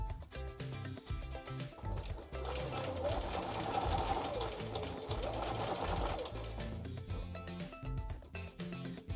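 A sewing machine stitches quilt block pieces, with short bursts of stitching at the start and end and a longer continuous run in the middle, close and clear, with faint talking in the background.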